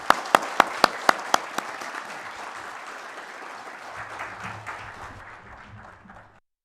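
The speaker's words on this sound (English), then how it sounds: "A round of applause for them" Applause for panelists at a climate conference in Bhutan, opening with a few sharp, loud individual claps before spreading into a soft, sustained round from the hall that gradually fades out.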